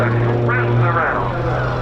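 The engine of a display aircraft roars steadily at full throttle during an RAF Cosford air show, loud and sustained with a droning tone that rises and falls, under a commentator's voice on the loudspeakers.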